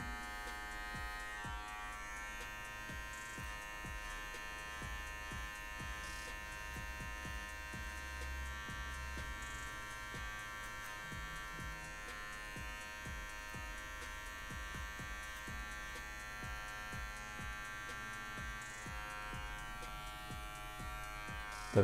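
An electric hair clipper trims a freestyle haircut design, working with just the tip of the blade: a steady, close, continuous buzzing hum with light scratchy texture, running unbroken throughout with no talk.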